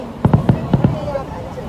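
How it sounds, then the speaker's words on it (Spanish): Fireworks rockets burst at a fair in Málaga, a quick run of five sharp bangs in under a second, fairly close and loud, followed by a fading rumble with faint crowd murmur behind. "veo los cohetes son enormes"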